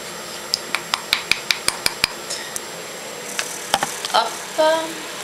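A utensil clinks rapidly against a bowl while Ayurvedic powders are mixed together, with a quick run of sharp taps, then scattered scrapes and knocks, close up and with no talking.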